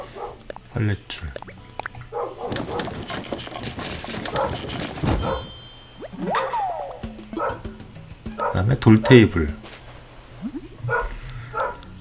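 A neighbour's puppy barking outdoors, with scattered barks partly under someone talking and other background noise.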